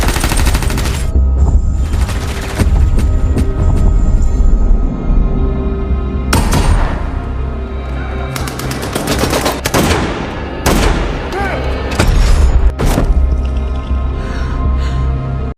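Gunfire in an action film scene: loud, close bursts of rapid automatic shots and single cracks in several clusters over a rumbling background, with no talking.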